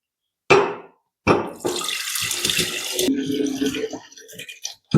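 Fermented amla and jaggery mixture, the jaggery melted to a watery syrup after 21 days, is poured into a glass jar: a couple of short splashes, then a sustained liquid pour that trickles off and ends with another splash.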